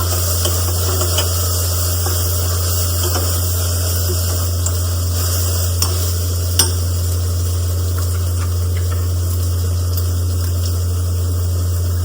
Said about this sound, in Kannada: ಸೋಯಾನ ಇದರೊಳಗಡೆ ಹಾಕಿ ಅದನ್ನು ಕೂಡ ಫ್ರೈ ಮಾಡ್ಕೊತೀನಿ